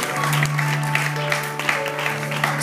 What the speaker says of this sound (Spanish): dame un aplauso fuerte al Señor